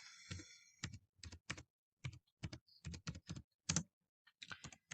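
Typing code on a computer keyboard in Visual Studio Code, with rapid, distinct keystrokes in irregular clusters and short pauses, close and clear, and no one speaking.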